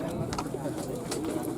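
Birds call steadily at an outdoor bird singing contest in a field, a dense mix of cooing and chirping from many caged birds close by, with people talking over it.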